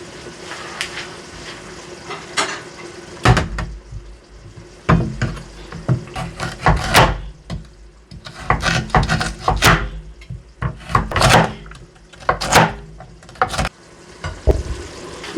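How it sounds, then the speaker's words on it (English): Vegetables for vegetable jollof rice frying in a pan, with bursts of sizzling and scraping as they are stirred, loud and irregular and close by, with no talking. "I'm going to start frying my vegetables, which I'll be adding later to my jollof"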